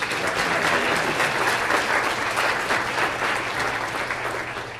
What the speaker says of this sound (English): I want to ask that we give them a big round of applause.